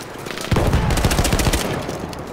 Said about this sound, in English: Oh crap, the machine gun is here.